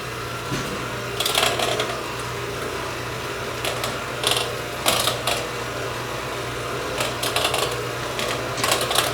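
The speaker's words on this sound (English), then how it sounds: "take my mixer again, and I'm going to mix all this just till it's all combined" An electric mixer churns pumpkin cheesecake batter in a bowl with a steady low motor hum, punctuated by repeated bursts of rattling, clattering beater noise as it works through the mixture.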